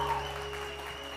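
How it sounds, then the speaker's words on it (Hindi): Studio audience clapping on a TV morning show for a guest jewellery designer, a brief burst of applause fading quickly. "बहुत सारी तालियां ना इसी के शाहिद के लिए"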